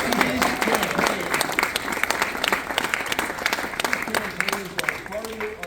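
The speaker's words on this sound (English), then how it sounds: "Let's give Megan a round of applause too" A crowd at a campaign event applauds the candidate's wife, Megan, with dense, sustained clapping that stays loud and even throughout, while a voice talks underneath.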